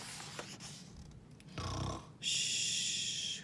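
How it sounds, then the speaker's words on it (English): Snoring during a read-aloud children's bedtime story, a few soft rasping snore breaths followed by a brighter hissing sound, close and fairly quiet with no talk. "Shh, who's snoring?"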